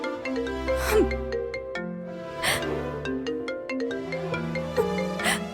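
A phone ringtone plays a repeating melodic tune over steady background music in an indoor drama scene, fairly loud and continuous with short chime-like notes recurring.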